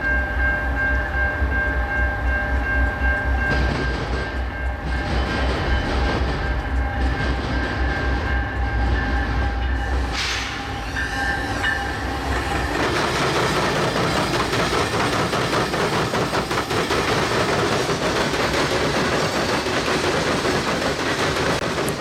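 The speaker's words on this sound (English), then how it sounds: "The pounding of these three diamonds all at once creates a very unique sound" A Canadian National train pounds over three railroad diamonds at once at JB Tower in West Chicago, a loud, close, continuous rumble of heavy wheel strikes and rattling cars in the evening.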